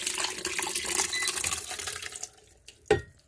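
Liquid pours steadily for a couple of seconds, splashing into a blender, then tapers off with a couple of knocks at the end.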